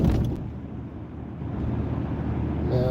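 A car rolls along a snowy, icy road, its engine and tire noise forming a close, steady low rumble that fills the whole moment without any voices.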